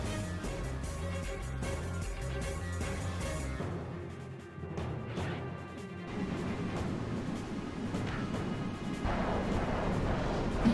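Rocket weapon fire in Ratchet & Clank 3 lands as crashing, booming impacts over a constant backdrop of game music, with a louder burst of hits near the end.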